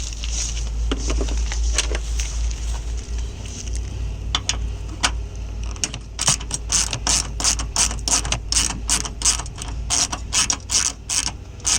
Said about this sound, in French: Et on prend la clé à tube. Et on serre.